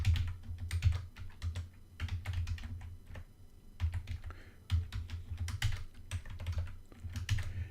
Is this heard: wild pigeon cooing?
no